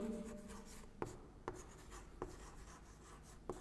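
Marker or chalk writing on a classroom board, a soft continuous scratchy rub with a few sharp taps as strokes start, close and fairly quiet, no talking.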